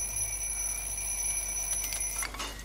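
An alarm clock burns in the fireplace of the video game Little Inferno, giving off a steady, high electronic ringing tone that holds throughout, with brief crackling bursts near the end.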